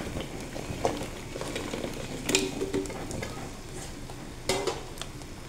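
Vegetables sauté in a pan at home, a faint steady sizzle broken by a few light scrapes and clinks of a utensil against the pan.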